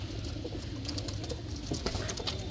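A domestic pigeon coos close by in a loft, soft repeated low calls over a steady background hum.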